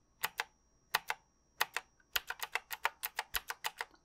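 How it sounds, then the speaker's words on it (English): A typewriter-style keyboard with round keys clacks close up, first a few spaced pairs of strikes, then a fast steady run of crisp keypresses, with no talking. "It's a typewriter keyboard"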